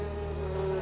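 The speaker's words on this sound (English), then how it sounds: "The bees are now enraged and they begin swarming the room." Steady insect buzzing, close and continuous, like a swarm of bees droning without pause.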